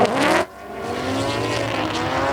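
A drift race car engine roars with rising harmonic pitch and tire noise at a D1NZ drifting event in Taupo, a loud burst at first, then a steadier revving drone continuing throughout.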